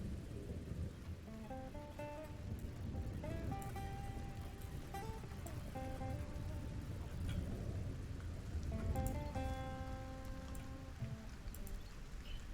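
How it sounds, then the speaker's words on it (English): Rain falls in the video game Stranded: Alien Dawn, a soft, steady patter layered beneath gentle in-game music notes. "And the rain returns."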